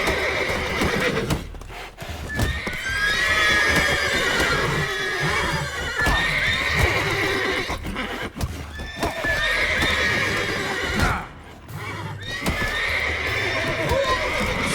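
In the game The Witcher 3, horses neigh loudly and repeatedly over steady clip-clopping hooves, with a voice talking at times among the whinnies.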